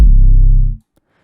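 A single deep sub bass 808 note, smooth and heavy, sustaining for under a second before cutting off into silence.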